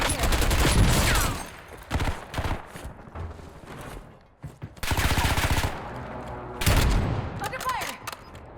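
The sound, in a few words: gunfire in the video game Warzone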